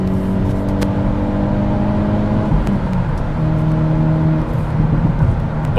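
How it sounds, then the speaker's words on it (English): A 2022 Hyundai Elantra N sport sedan engine revs and drones steadily from inside the cabin, its pitch rising and falling with throttle between about 3,000 and 5,500 RPM, loud and continuous. "this is just engine"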